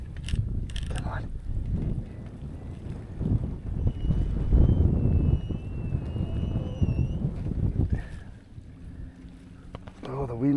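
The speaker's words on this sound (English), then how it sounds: "the wind's starting to bloody pick up. Audio's going to go to crappery" Wind buffets the microphone on a small fishing boat on open water, loud and gusty low rumble throughout, with brief speech and faint mechanical sounds in the background.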